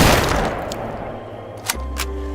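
Gunfire from a sniper practicing on a Soviet shooting range: one loud, close blast at the start with a decaying rumble, then a couple of sharper, fainter reports near the end, with no talk.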